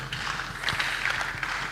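A church congregation at a seminar breaking into applause, a dense, steady patter of clapping filling the room.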